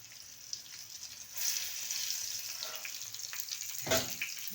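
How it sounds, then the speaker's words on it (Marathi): Brinjals frying with garlic in a pan over lowered heat, a soft steady sizzle that grows denser after the first second, with a brief louder crackle burst near the end as pieces settle into the oil. "त्याला दोन्ही बाजूने फ्राय करून घेऊया"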